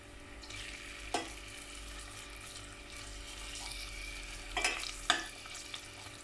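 Onions frying in a pan during outdoor cooking, a soft steady sizzle with a few louder clatters and stirring scrapes scattered through.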